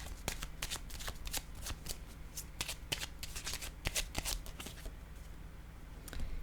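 Tarot cards being shuffled by hand, a close, quiet series of quick riffling and slapping card sounds in an uneven rhythm across several seconds.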